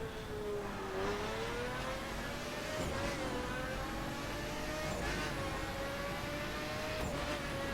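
A Pagani Huayra's engine drones steadily while driving in The Crew, its pitch rising and falling slowly as it holds speed, up close and continuous with no talking.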